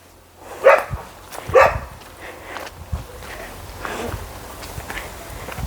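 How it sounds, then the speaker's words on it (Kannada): Two sharp barks from hunting-breed dogs at a kennel near the start, followed by softer movement, shuffling and faint yips nearby. "ಇವು ಬೇಟೆ ನಾಯಿ ಜಾತಿಗೆ ಸೇರಿದಂಥವು"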